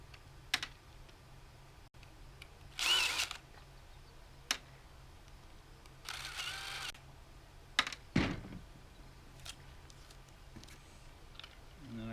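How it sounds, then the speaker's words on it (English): Small M3 screws being backed out of an Air Venturi Avenger air rifle during grip stock conversion, giving a few sparse, close clicks and brief scraping bursts with quiet gaps between them. "Take these four little M3 screws out."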